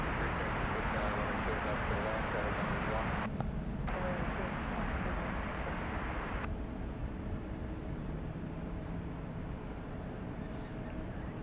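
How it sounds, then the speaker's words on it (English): A Boeing 777 airliner heads for departure at San Francisco with a steady, broad jet roar that fills the whole stretch, and indistinct voices sit underneath it. "Another 777 heading for departure."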